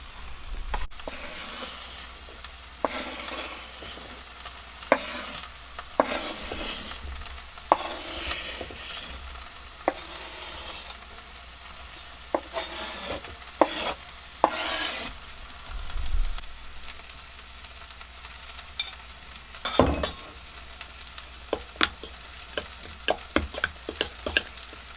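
Onions fry and sizzle in a pan aboard a liveaboard boat galley, a steady hiss broken by repeated scraping stirs up close, with no talking.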